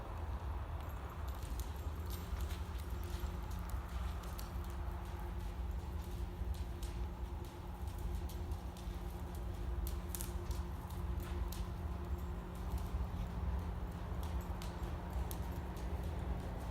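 A horse's hooves clop faintly and steadily on the ground during ranch roping ground work, under a constant hiss of outdoor noise.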